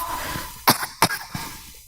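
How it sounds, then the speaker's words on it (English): A cartoon bunny coughing, two sharp close coughs followed by a smaller third, with quiet airy background between them. "bunnies can develop a cough"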